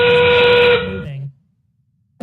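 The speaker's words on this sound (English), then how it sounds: "That whistle means we are in the end game." A loud, steady steam-style whistle sounds for about a second at a First Tech Challenge robotics qualifier, signalling the end game, then cuts off into brief silence.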